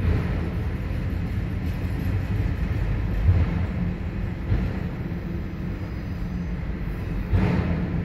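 A long Norfolk Southern freight train rolling past in Hamilton, Ohio, producing a steady, continuous low rumble and rattle of railcars with faint clanks, heard from nearby with no talking.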